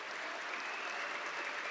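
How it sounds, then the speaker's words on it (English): Steady, full applause from an audience cheering founders on stage at a startup showcase event, a dense unbroken wash of clapping throughout the short clip with no talking. "A big round of applause for these founders."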